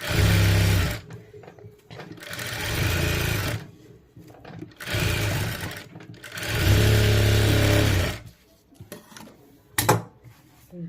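A sewing machine stitches lining in several loud, close bursts of rapid whirring and clatter, separated by short pauses with quiet handling noises.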